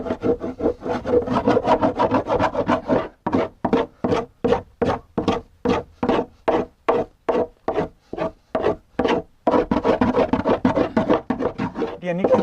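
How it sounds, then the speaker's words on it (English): A dough scraper works dough out of a bowl during a baking day, making rhythmic scratchy strokes, about a dozen even passes in a row, close and fairly loud, with denser rubbing at the start and end. "We can see how well it works in terms of scraping out the dough."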